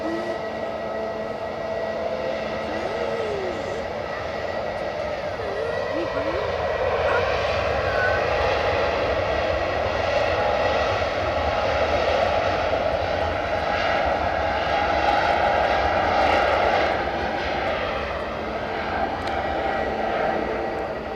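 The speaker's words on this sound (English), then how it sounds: "Qatar Dreamliner" A Qatar Airways Boeing 787 Dreamliner jet at Edinburgh Airport gives a steady, loud, sustained engine roar with a whining tone that swells slightly, heard alone from a spotting position.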